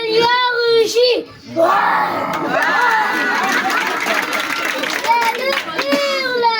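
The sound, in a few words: children imitating a lion roaring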